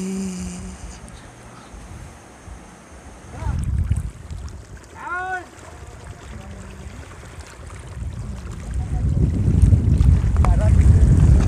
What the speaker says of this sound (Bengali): ছেড়ে দিল ঈশান মাঝির বোট।